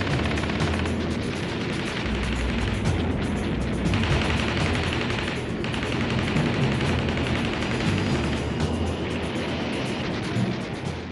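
Machine guns fired by B-17 bomber gunners at attacking German fighters in World War II make a dense, continuous rattling roar of rapid gunfire that barely lets up.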